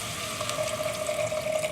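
Water or vegetable stock pours steadily into a cooking pan while gai lan is being prepared, a close continuous trickling splash with a faint tonal ring.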